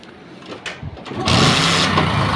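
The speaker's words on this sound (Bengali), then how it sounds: "দেখুন গাড়িটাকে আমি স্টার্ট করেছি।" A freshly rebuilt vehicle engine, just started and still cold, runs close by; a few faint clunks give way to a loud, steady rough idle.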